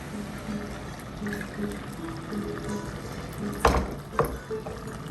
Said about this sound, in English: it's time to add some more liquid